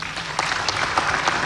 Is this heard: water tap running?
no